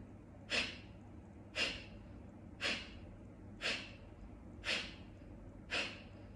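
Six sharp, forceful nasal exhalations of Kapalabhati yoga breathing come about once per second in an even rhythm, each a short breathy puff, close and fairly quiet against a faint steady hum.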